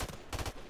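Rifle fire in the shooter game Call of Duty: Infinite Warfare, a quick cluster of close, punchy shots over a short moment, with no talking.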